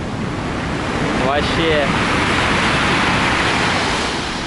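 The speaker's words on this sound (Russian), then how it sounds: "Вон, посмотрите, как пошла волна." Violent storm waves crash and churn on the pebble shore in Sochi, a loud, continuous roar of surf mixed with wind buffeting the microphone, with a single brief spoken word.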